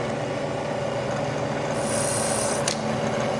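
A drilling machine with power down feed bores a hole into a wooden dresser part, giving a steady close motor hum and grinding rasp throughout, with a brief brighter whine near the end.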